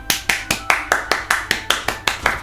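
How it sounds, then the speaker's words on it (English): Hand clapping: about a dozen sharp claps at a steady, fairly quick pace, close and moderately loud, with no other sound. "we'll give you an official clap"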